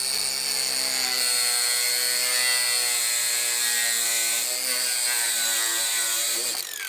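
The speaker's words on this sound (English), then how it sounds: "cut-off grinder with a cut-off wheel. You'll see what I do. And when I cut it, it heats up so much" A cut-off grinder with a cut-off wheel slices through metal, giving a loud, close, sustained high whine that holds steady for several seconds and then winds down, with no talk over it.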